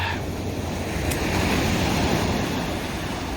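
Large sea waves breaking on the shore, a loud continuous roar of surf with wind buffeting the microphone.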